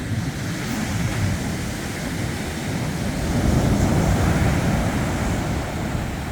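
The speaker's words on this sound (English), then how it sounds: "Warning, you're going to see a lot of waves in this video." Surf rolling onto a beach at Cabo San Lucas, a steady broadband wash of breaking waves with low rumble and wind noise, swelling slightly louder midway, no voices.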